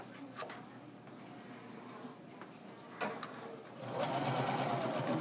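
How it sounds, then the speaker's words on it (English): A sewing machine stitches an apron seam: light ticking and short stops at first, then a steady, whirring run of needle clatter near the end. "and sew all the way down"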